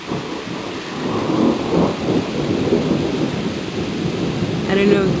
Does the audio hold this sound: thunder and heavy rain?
yes